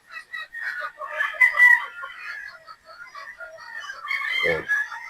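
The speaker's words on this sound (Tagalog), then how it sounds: "Yung kasunod dito, na pin ay mga Boston Roundhead na po mga bossing." Boston Roundhead chickens in a game-farm pen cluck and crow nearby, with overlapping calls and a louder crow toward the end.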